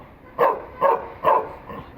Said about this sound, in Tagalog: Tahol siya ng tahol po.